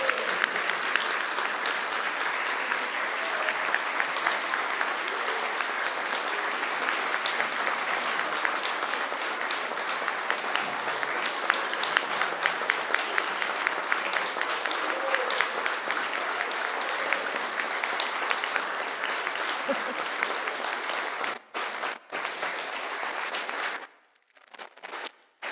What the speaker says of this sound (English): Let us give all these wonderful people a round of applause.